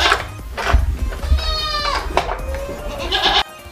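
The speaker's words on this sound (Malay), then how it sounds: "Ya, kita dengar bunyi-bunyi kambing ini." Goats in a farm goat pen bleat repeatedly, several quavering cries close by over a low background murmur.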